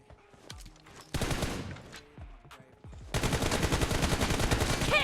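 PUBG Mobile gunfire: several short bursts of shots at first, then sustained rapid automatic fire dominating the last two seconds, loud and close.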